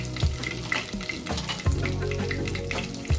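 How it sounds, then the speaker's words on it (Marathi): Mustard seeds, urad dal and dried red chillies sizzling in hot oil for a jackfruit dish, a close crackling fry with faint pops and stirring, no talk. "तेल तापल्यानंतर त्यात मोहरी घातली"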